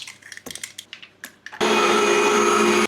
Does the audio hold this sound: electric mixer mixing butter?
yes